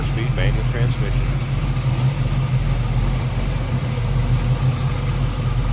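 A 1968 Chevrolet Camaro Z28 tribute with a 350 V8 and four-speed manual idles smoothly with a steady low rumble, close and loud, and a voice speaks briefly at the start.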